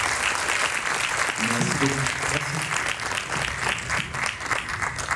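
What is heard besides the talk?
audience applause after a pitch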